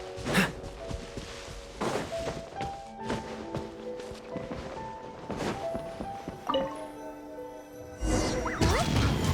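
Fireworks bursting in Genshin Impact, a run of sharp booming cracks and thumps spaced through the stretch with whooshes and sparkling tails between, loud and close, rising to a dense barrage near the end.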